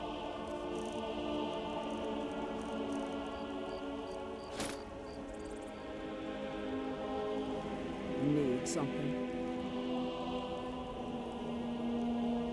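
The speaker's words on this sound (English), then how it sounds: "I enjoy the rain" Steady rain falling in Skyrim, a constant soft hiss with scattered drops, with a few brief clicks and a short spoken line over it.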